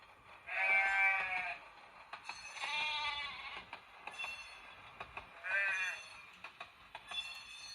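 Animal bleats from a Soundtraxx Tsunami SoundCar decoder in an HO scale Bachmann model cattle car sound in a few separate bursts over a quiet rhythmic clickety-clack of train wheels.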